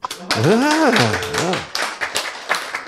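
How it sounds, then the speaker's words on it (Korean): A church congregation breaks into scattered clapping during a sermon, right after a preacher's voice, the claps sharp and uneven and filling the second half of the moment. "박수."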